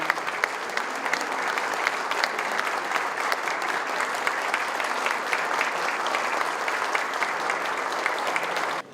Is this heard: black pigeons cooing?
no